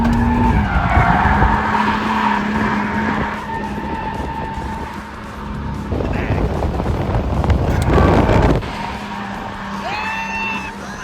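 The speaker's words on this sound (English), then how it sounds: "Starting up is this Mark III Supra that took me around the small oval course they had set up." A Mark III Supra drifts around a small oval course, tires skidding and squealing over a roaring engine heard from inside the car. The sound is loud and continuous, with rising and falling engine pitch and wind buffeting.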